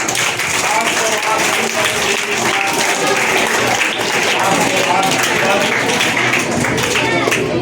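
An audience at a school's annual results ceremony claps for the first-place student, a thick wash of applause running steadily for several seconds with voices mixed in.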